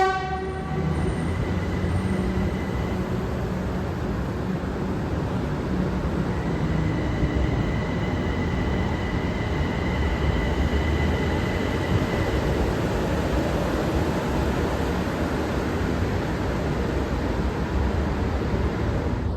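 El Insurgente commuter train rolling toward the yard beyond Zinacantepec terminus, a loud continuous rumble of wheels on rail with sustained horn-like tones sounding over it for several seconds.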